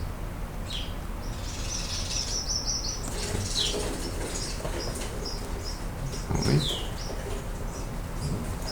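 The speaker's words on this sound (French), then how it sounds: "Les oiseaux sont occupés." Birds busy in spring chirp and tweet faintly in the background, with light wing flutters and a brief soft rustle; a voice briefly speaks a word.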